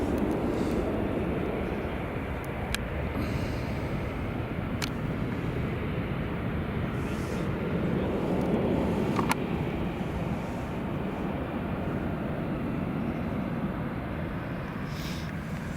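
An Aer Lingus airliner on runway 24 at Edinburgh Airport gives a faint, steady engine rumble throughout, broken by a few sharp clicks and taps nearby, with no talking.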